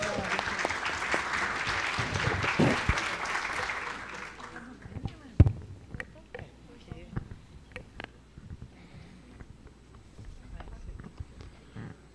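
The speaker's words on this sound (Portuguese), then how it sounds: "Uma salva de palmas." Audience applause at a national meeting of state health surveillance coordinators, steady crowd clapping for about four seconds that then thins out to scattered claps, shuffling and room noise.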